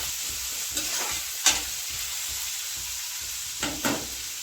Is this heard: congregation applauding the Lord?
no